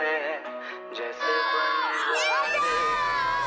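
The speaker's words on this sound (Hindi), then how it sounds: "तुमने सुना वो एक बच्चे की चीखने की आवाज सुना?" A child screams in a lonely forest during a CID crime drama episode, high-pitched wavering cries that rise and bend, followed by a noisier stretch of shouting toward the end.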